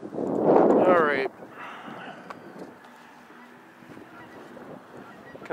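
A voice talks loudly up close for about a second, then distant geese honk faintly over quiet outdoor background noise.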